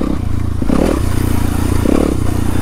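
A dirt bike ridden at night, its engine droning steadily with a low, pulsing rumble and two brief swells of revving, plus rattling clatter from the bike over rough ground.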